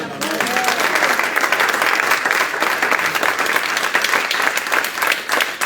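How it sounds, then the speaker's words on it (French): Church congregation applauding loudly and steadily during a worship service, a dense sustained wash of clapping with faint voices and cheers mixed in throughout. "Applaudissons le Seigneur très fort"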